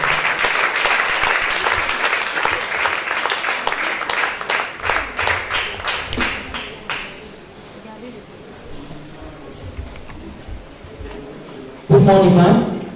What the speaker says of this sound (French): Put your hands together and give it to Jesus.